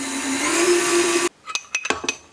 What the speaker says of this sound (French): on va pétrir la pâte pendant à peu près 30 secondes